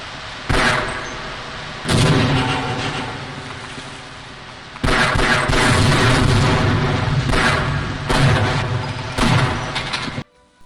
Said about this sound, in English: blowing up Marine soldiers by shooting at trip mines placed in a rather unprofessional and inconvenient way